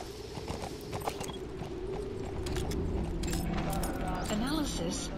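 Horse hooves clip-clop in a steady rhythm in the video game Metal Gear Solid 5, moderately close amid gear and mechanical clinks, with someone talking over it.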